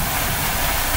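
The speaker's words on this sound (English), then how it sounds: "Got my onion sauteing." Onion with a pinch of sugar sizzles in a hot pan, a brief, dense, steady hiss with no voices.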